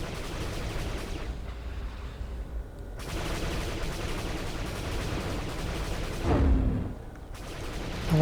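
Enemies firing back in Disney Infinity 3.0's Battle of Sokovia, a steady rattle of gunfire with bursts that swell and fade, plus a heavier thump near the end.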